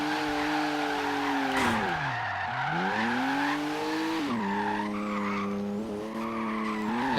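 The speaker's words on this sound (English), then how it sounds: "As you can see here, this works as a drift car." Tires squeal steadily throughout as a car drifts in Forza Horizon 3, from The Smoking Tire car pack, used for urban drifting. Engine tone rises and dips under a continuous skid, loud and close, with no talking.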